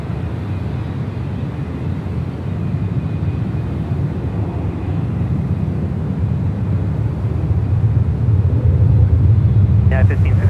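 Jet airliner noise at San Francisco airport, an Emirates plane on the ground: a steady, loud low rumble and roar that builds slightly toward the end, with a brief faint voice-like burst at the close.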